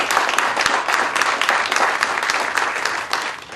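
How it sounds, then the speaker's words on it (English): Loud, dense applause from a crowd at a supermarket groundbreaking ceremony, sustained and close with sharp individual claps standing out throughout. "So please give him a round of applause"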